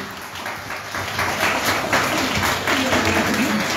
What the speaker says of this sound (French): Si vous voulez l'acclamation, s'il vous plaît.